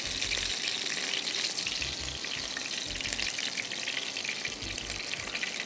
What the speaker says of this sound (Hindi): पहले मैं सारे फ्राई कर दूं, फिर दम देंगे